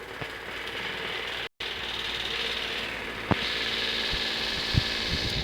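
A noisy electric fan whirring steadily with a mechanical, slightly rattling hum, one brief cutout, then continuing slightly louder with a couple of sharp clicks.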